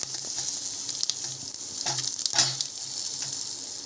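Whole spices such as star anise and bay leaf, then curry leaves, sizzle in hot oil for masale bhat: a steady, hissing fry with a few sharp crackles and pops, close by.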